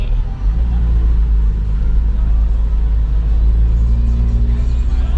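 A car engine drones steadily with a heavy low rumble while driving on a mountain road at Phu Thap Boek, continuous and close with no pauses.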